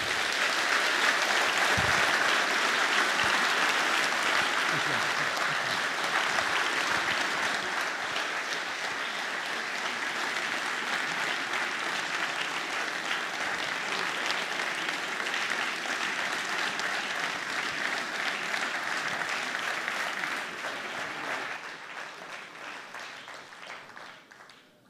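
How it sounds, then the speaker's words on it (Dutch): A large lecture audience claps after a public talk by Wopke Hoekstra, a long, even wash of applause that holds steady for about twenty seconds before thinning out at the end. "Graag een applaus voor Wopke Hoekstra."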